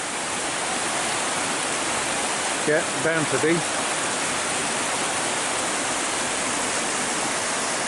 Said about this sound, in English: this looks like it's a mill outflow